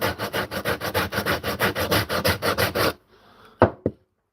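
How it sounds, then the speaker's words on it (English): Sandpaper rubs across wood in about fifteen quick, even, rhythmic strokes, close and loud. Then it stops, and two sharp knocks follow. "This is good sandpaper, man."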